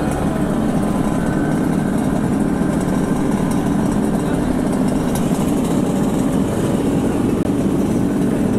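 Yamaha King motorcycle engines idle at a nighttime club anniversary gathering, a loud steady rumble filling the scene, with crowd voices mixed in.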